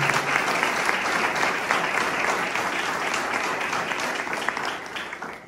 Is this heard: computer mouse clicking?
no